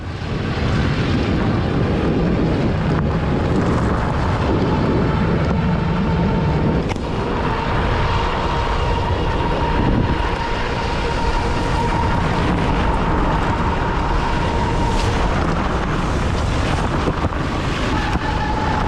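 Constant rushing wind buffets the microphone with a steady roar throughout while riding an ENGWE X24 folding e-bike in an evening summer breeze. No voices are heard.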